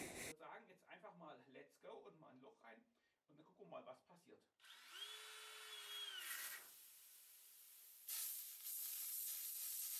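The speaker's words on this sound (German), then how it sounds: "mein erstes Loch in den Reifen gebohrt hier im Video" Someone talks, then a cordless drill whines up and runs steadily, drilling into a tubeless bicycle tire, before hissing air bursts out sharply at the end.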